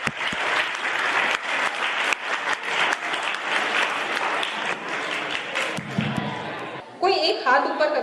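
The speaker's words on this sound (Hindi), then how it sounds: "जोरदार तालियों से मैम का स्वागत करते हैं" Loud, sustained applause from students welcoming a guest at a school health awareness event, dense clapping for about seven seconds before it fades and a voice starts speaking.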